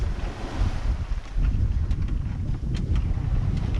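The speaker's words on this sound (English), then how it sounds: "we just hit the waves from the ship" A sailboat offshore on passage to Jamaica ploughs through the wake waves of a passing ship, with a continuous rush of water and heavy wind noise against the microphone and low thudding surges.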